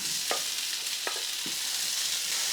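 Steady sizzling of tomatoes added to aubergines in a frying pan, with a few soft scraping stirs, close and fairly quiet, no talking.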